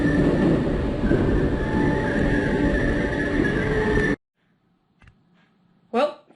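A class 508 electric train rumbles loudly past at close range for about four seconds, a steady dense roar that cuts off abruptly into near silence, followed by a brief voice and a short burst of noise.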